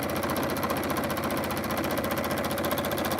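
A sewing machine stitches steadily through Christmas quilting fabric scraps with a cardinal print, giving a continuous fast mechanical hum and rattle that stays even and close throughout, with no talking.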